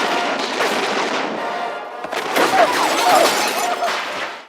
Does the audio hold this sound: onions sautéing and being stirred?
no